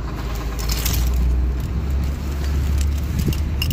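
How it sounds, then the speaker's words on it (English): Trucks rumble behind someone standing outside a big box store, a steady low road drone that stays continuous and fairly close, with faint clinks and scrapes on top. "There's all sorts of trucks behind me and stuff."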